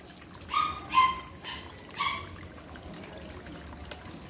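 Water trickles steadily through a homemade fountain built from stacked plastic pots, a soft continuous flow with a few brief tonal bursts near the start.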